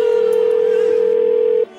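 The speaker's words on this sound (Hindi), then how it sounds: "मैं पुलिस को फोन करती हूँ।" A telephone dial tone hums steadily and fairly loud for over a second and a half before cutting off abruptly, as someone prepares to call the police.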